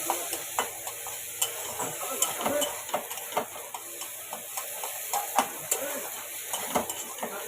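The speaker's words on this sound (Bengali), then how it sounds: "এবার আমি কেটে রাখা পেঁয়াজগুলো দিয়ে দেব" Chopped onions frying in a little white cooking oil for pasta, a steady close crackle with sharp scraping clicks from stirring at irregular intervals throughout.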